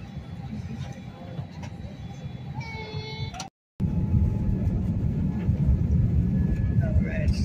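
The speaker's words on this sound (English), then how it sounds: "We're taxiing away here." An airliner taxiing at Las Vegas before a flight to Reno gives a steady cabin engine rumble, loud and continuous apart from a brief cut, with a voice speaking over it.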